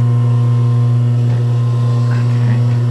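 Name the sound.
sewing machine running, sewing down a piece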